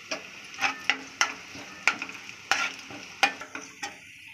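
Ginger and garlic sauté in oil for Hakka noodles, with a spatula scraping the pan in a regular rhythm, about a dozen crisp strokes over a continuous light sizzle, heard up close.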